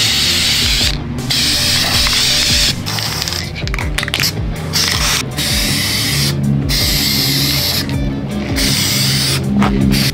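Spray can bursts coating a 3D-printed Iron Man mask: repeated loud hissing sprays in short and longer pulses with brief pauses between, close by and alone.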